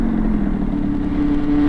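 Derbi Senda 50cc motorcycle engine while riding: a loud, steady buzzing drone with a low rattly pulse and a faint rising whine near the end, no voices.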